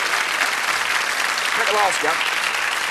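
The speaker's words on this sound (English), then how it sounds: "Give him a nice clap, ladies and gentlemen." A studio audience claps steadily through a TV snooker game show Christmas special, with a host's voice speaking over the applause partway through.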